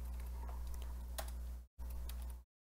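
Fast, light clicking of keys being typed on a computer keyboard to enter a SQL command, heard close and continuous with a brief pause, no talking.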